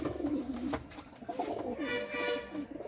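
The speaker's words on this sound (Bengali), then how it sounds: "এই যে আর এক সেট টেডি রানিং কবুতর আছে" Several Teddy running pigeons coo in overlapping low, rolling calls close by, a steady murmuring chorus of throaty burbles lasting throughout.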